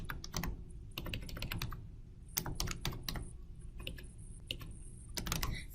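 Someone types on a computer keyboard while coding, with quick clusters of close, crisp key clicks separated by short pauses, heard alone without talk.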